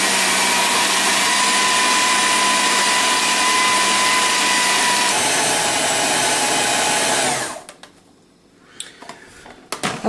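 An electric mixer churns German Bierschinken sausage meat with a loud, steady whirring motor hum for several seconds, then cuts off abruptly, leaving quiet with a few clattering knocks.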